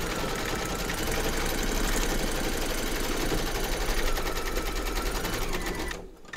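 A machine-embroidery sewing machine stitches a stuffed bunny in one steady, loud, rapid run that stops abruptly near the end.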